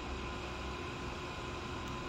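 A REFFAIR AX30 MAX air purifier running in spray mode gives off a steady, even broadband hiss of airflow, close and constant, with no one talking.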